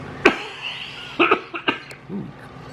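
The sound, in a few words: coughing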